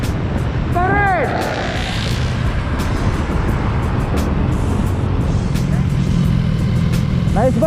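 Honda Beat 2020 scooter engine running steadily on a road with passing traffic, a continuous low motor drone throughout, with a short whistle-like tone near the start and people talking over it.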